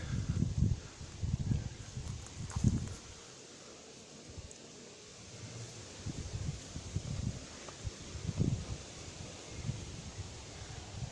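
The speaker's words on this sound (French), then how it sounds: "c'est le vent qui a monté un petit peu" Outdoor wind noise buffeting the microphone in low gusts at a beehive apiary, with soft rustling, steady for the whole stretch and briefly easing midway.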